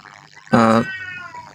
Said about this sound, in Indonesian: Bunyi kucing tuh di mana itu ada kucing?